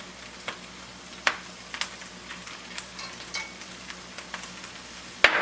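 Hormel bacon bits sizzling in a pan with Brussels sprouts, a steady crackling fry broken by a few sharp clinks and scrapes as the food is tossed, with a louder clatter at the end.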